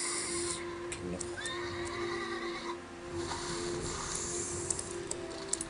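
A horse whinnies in a World of Warcraft soundscape, the neigh rising over steady ambient noise with a few clicks near the end.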